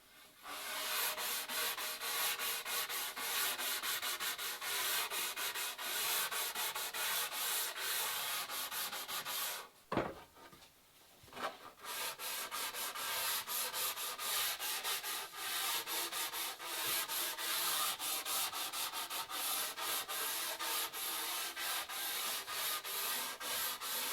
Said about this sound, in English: take a bit of sandpaper and knock those off before this joint is going to come up perfectly tight